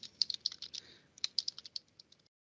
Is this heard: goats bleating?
no